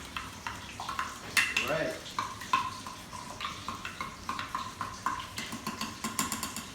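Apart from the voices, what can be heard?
mixing brown sauce in a bowl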